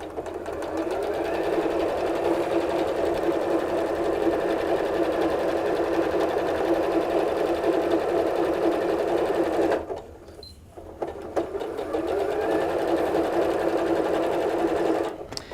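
A sewing machine runs steadily while stitching a quarter-inch seam at about 2.5 stitch length on a Christmas stocking, pausing briefly near the end before resuming, loud and close.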